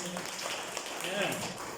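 A room of school staff at a meeting breaks into a short round of applause, a dense, steady patter of many hands with a voice showing briefly through it.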